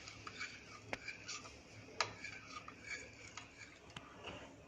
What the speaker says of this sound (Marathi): आणि आता मिक्स करूया.